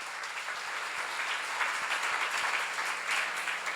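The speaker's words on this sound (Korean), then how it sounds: "박수를 하세요." A church congregation at a pastors' seminary applauds steadily, a dense wash of clapping hands with a few sharper claps standing out, filling the room at an even level with no talk over it.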